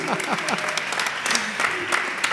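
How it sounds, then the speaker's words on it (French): Applause from a church wedding crowd cheering the bride's mother, steady clapping throughout with voices talking over it. "On peut quand même acclamer pour maman"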